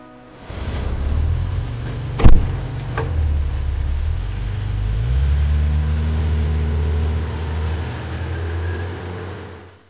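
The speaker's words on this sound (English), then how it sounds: "And as we trundle along in this car" A Daimler DS420 limousine drives along from inside the cabin, with a low steady engine rumble and road noise, one sharp knock or bump early on, and the engine note rising slightly midway; no talking.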